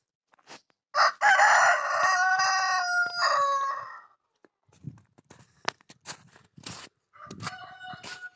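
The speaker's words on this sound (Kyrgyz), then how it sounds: "Бул жакта дагы жүрүшөт тооктор." A rooster crows loudly and close in a backyard poultry yard, one long drawn-out call, followed by scattered soft clucks, rustling and footsteps among the chickens.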